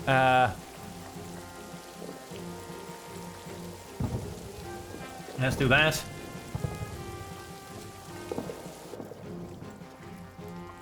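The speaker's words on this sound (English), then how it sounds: "No, it is still raining." Steady rain patters throughout amid sounds from the trench game All Quiet in the Trenches, with a short spoken phrase and a couple of louder bursts partway through.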